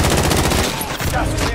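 Sustained automatic gunfire in a Call of Duty match, a loud continuous rattle of rapid shots with a voice shouting over it.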